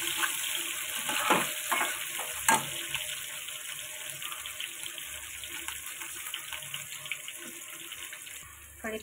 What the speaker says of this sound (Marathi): मिरची टाकली, मस्त फ्राय करून घेऊया।